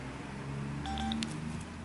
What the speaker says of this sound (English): So hold down the phone button for 2 seconds.